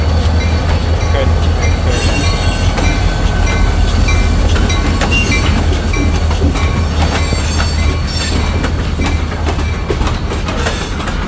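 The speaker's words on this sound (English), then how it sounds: "Cool to be inside the train when he passes." A Buckingham Branch freight train rolls past loudly in Charlottesville, Virginia, with rhythmic clickety-clack of wheels on rails and occasional metallic squeals, heard from close by inside a stopped Amtrak train.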